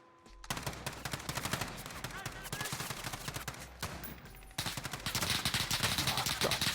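Sniper and automatic gunfire in the online shooter Warzone, a dense run of sharp cracks and bursts going on throughout, loud and close, louder again toward the end, with no talking.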